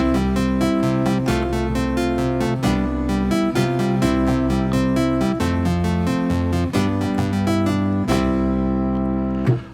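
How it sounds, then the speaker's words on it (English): Electric piano tones from a Studiologic Sledge synthesizer emulating an RMI Piano, playing a bouncy chord pattern over a steady bass line, clean and continuous. "we're going to start with the RMI Piano, and it sounds a bit like this"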